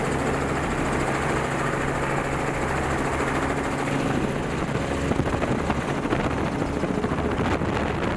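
A helicopter, likely a Bell 206 JetRanger, flies over Texas farmland and forest during a feral hog hunt, giving a loud, continuous rotor-and-turbine roar with steady blade chop and some wind buffeting.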